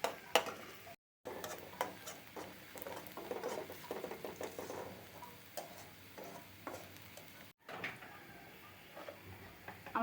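Onions frying and browning in a pan for tomato chutney, a soft continuous sizzle with irregular stirring ticks and scrapes, fairly quiet and close, with two short silent breaks.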